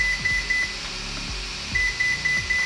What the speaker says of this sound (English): It will then switch to a series of 4 faster beeps.